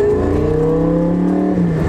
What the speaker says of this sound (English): The Lambo kept sputtering and coming in and out of limp mode.